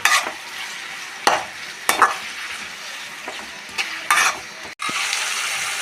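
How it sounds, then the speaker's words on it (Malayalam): Onions and tomato are stirred and sautéed in a pan for chicken curry, with a steady sizzle broken by several scraping strokes of a spoon against the pan, close and clear with no talk. "അപ്പോൾ നമ്മുടെ സബോളയൊക്കെ നന്നായിട്ട് വഴറ്റി കിട്ടി"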